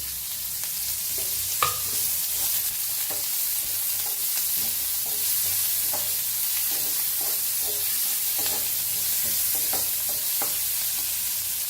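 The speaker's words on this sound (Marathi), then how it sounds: "तर कांदा भाजून घेऊया आपण।" Chopped onion frying in a pan, with a constant hiss of sizzling oil and soft intermittent stirring scrapes, plus one brief sharper knock early on.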